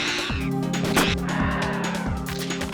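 Crows attacking in the Parasite Eve game, harsh cawing cries against a dense layer of game music and effects, with repeated swooping hits at a steady pace.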